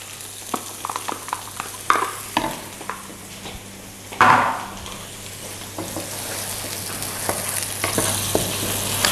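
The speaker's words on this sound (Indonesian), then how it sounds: "Kita tumis sampai dia agak layu dan coklat ya." Onions sauté in a hot pan with a continuous sizzle, broken by sharp scrapes and taps as a spatula stirs them, one stroke louder near the middle.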